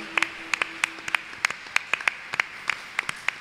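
Church congregation applauding during a French-language worship service, a steady run of sharp, evenly spaced claps, fairly close and moderately loud, with a faint sustained tone underneath.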